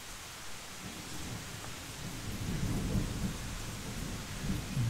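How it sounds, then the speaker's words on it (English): Low thunder rumbles and swells through the middle of a torrential rainstorm, with a steady hiss of heavy rain beneath it. The sound is fairly faint and distant, and no voices are heard. "thundering outside at the moment."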